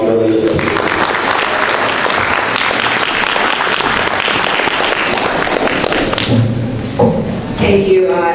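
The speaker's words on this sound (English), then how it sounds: "a round of applause for Linda." Loud, dense applause from a large audience at a coalition-building panel for a speaker, a sustained roar of claps that fades near the end as a voice begins speaking.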